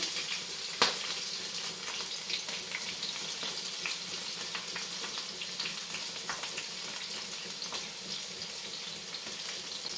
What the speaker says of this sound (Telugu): పచ్చిమిర్చి ఇవన్నీ కలిపేసేస్తున్నాను.